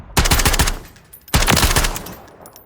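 KV Broadside shotgun fitted with a JAK Jawbreaker fires in a video game, two loud rapid-fire bursts of booming shots separated by a brief pause.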